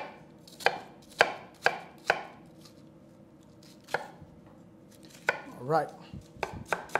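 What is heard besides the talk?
chopping food with a freshly sharpened knife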